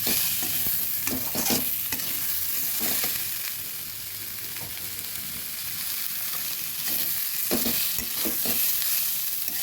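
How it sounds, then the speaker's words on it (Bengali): Oats khichuri with vegetables and green chillies is stirred in a pan, a constant hiss of frying under repeated scraping strokes of a spoon, near and without voices. "ভালোভাবে নেড়ে দিয়েছি"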